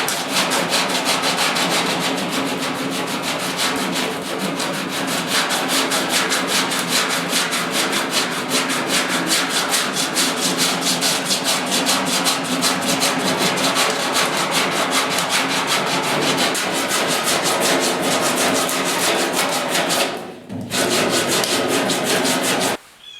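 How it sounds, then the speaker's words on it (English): Sandpaper scrubs rust off the cab of a 1972 Ford 4x4 truck in a continuous loud, close rasping rub, with one brief pause near the end. "Had to get some new sandpaper."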